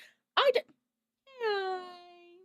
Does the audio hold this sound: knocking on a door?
no